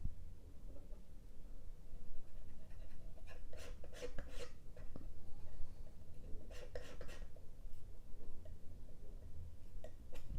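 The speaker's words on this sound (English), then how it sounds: "Scraping some more blue to create a bit more blue grayish color." A palette knife scrapes blue oil paint across a palette with faint scratchy strokes, a few short bursts clustered together, quiet against a low background hum.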